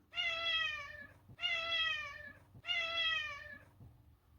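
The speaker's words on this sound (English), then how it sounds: "I might even consider selling this silver cat, Pippi." Silver cat Pippi meows three times in a row, each a long drawn-out call with a brief pause between, close and clear with no voices.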